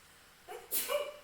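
A single short sneeze, a breathy intake followed by a sharp burst, close and moderately loud against a quiet background.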